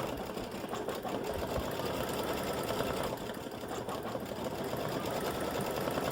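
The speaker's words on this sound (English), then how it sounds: "Leaves are stitching out right now" An embroidery machine stitches out leaves with a programmable textured fill for a crescent moon, stars and flowers design, giving a steady, fast mechanical rattle that runs continuously at moderate level with no voices.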